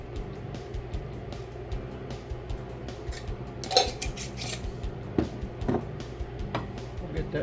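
A spoon stirs Cajun seasoning into a sauce in a pan, with scrapes and clinks of metal against the pan, a brief louder clatter midway, and a low sizzle underneath as someone speaks.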